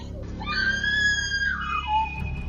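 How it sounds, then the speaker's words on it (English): A loud, sustained human scream rises and holds high, then slides down and trails off over a low rumbling background, heard in a true crime podcast about a murder. "That scream will echo in my head for many years."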